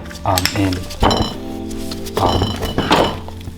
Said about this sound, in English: So I had to use the seal driver, hit it in, hitting it against the washer